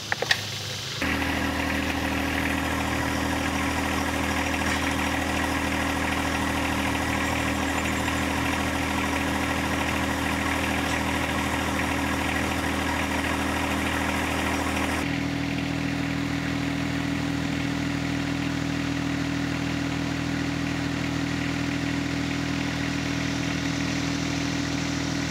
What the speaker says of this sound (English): It comes equipped with a Yanmar diesel engine. I think it's three cylinders.